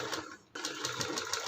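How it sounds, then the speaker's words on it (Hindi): Sewing machine stitching a half-inch folded hem, a steady fast mechanical chatter of rapid needle strokes that pauses briefly and then resumes at an even pace, close and clear with no talking. "तो यहाँ पे हमने लगा लिया हाफ इंच सिलाई"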